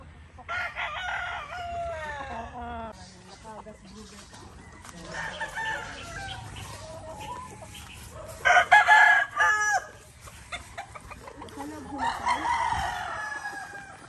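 Roosters crow repeatedly at a gamefowl farm, several loud, drawn-out cock-a-doodle-doo calls overlapping with clucking, one nearby crow especially strong, while a person talks faintly in the background.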